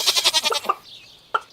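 A goat from the Stardew Valley farming game gives a quick run of rapid, wavering bleats, followed by silence and then one short final bleat, clear and close with no one talking.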